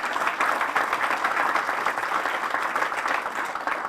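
Steady round of applause from a crowd gathered at a park groundbreaking ceremony, dense continuous clapping filling the room for several seconds at an even level.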